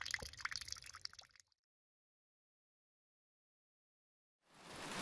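Rainwater overflow runs and drips from a trailer during rain, a close wet trickle that stops abruptly into silence before a soft rushing wash returns.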